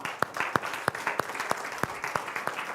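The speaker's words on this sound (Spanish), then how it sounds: "Dale un fuerte aplauso a Él." A church congregation claps together in a steady, loose rhythm, individual hand claps standing out as sharp regular beats over a continuous wash of applause, fairly close and moderately loud with no talk.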